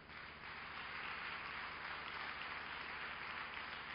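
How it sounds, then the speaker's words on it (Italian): An audience at an Italian gospel music festival gives sustained applause honoring a late gospel singer. Steady, even clapping from a crowd holds at a constant level without pauses, heard faintly and alone. "Ancora un applauso, grazie."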